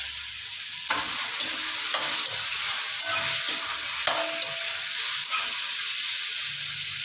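Chicken pieces hitting a hot pan of tomatoes, giving a continuous close sizzle and hiss with a few sharp stirring knocks spaced every second or so, no talking.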